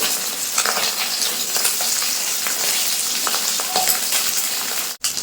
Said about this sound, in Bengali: অল্প অল্প করে ভেজে নেবো মাছগুলো